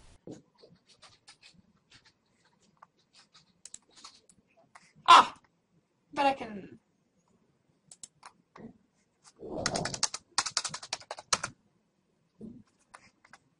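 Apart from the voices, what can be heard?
typing on a computer keyboard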